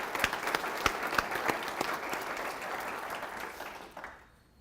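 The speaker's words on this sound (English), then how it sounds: "So I think they deserve a round of applause." An audience claps for local educators at a New Lenox State of the Village event, a few sharp nearby claps standing out over a broad wash of applause that fades away at the end.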